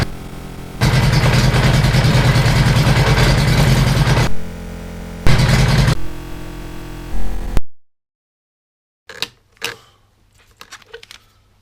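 A Suzuki GS1000 motorcycle engine runs loud and close during carb tuning, throttle held open in long roaring bursts that briefly dip, then cuts out abruptly into silence, followed by a few faint knocks.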